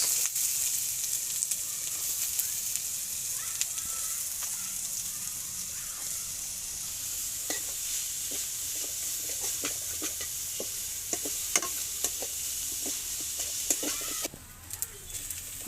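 Ginger sizzling in hot white oil in a pan for veg momo filling, a steady frying hiss with occasional sharp clicks and scrapes of stirring, close and continuous throughout.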